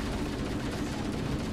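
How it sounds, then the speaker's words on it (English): Enemy gunfire in the video game Halo: Combat Evolved, a dense, continuous rattle of rapid shots at moderate loudness, with no talking. "There's a guy to your right shooting"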